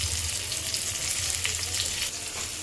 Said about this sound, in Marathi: कांदा थोडा परतून घेतल्यानंतर थोडासा टोमॅटो आपण त्याच्यामध्ये टाकूया.